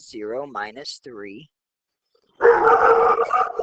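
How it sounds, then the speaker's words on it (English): A pet dog barks and howls for about a second, near and loud, after someone speaks briefly and a short silence. "That was my dog barking."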